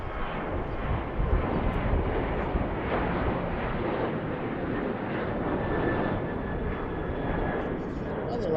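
An airplane flies near BWI airport, a broad continuous engine roar and rumble that stays loud and steady, heard outdoors.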